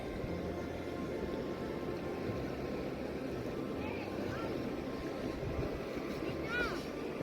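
River water flows steadily near Ananuri, making a constant broad rushing wash that fills the whole clip. A few faint high chirps come through near the end.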